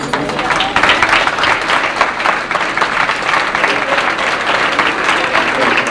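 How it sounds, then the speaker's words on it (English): A band banquet audience gives itself a round of applause, dense, steady clapping from a large crowd filling the room evenly from start to finish. "That wasn't a big enough applause"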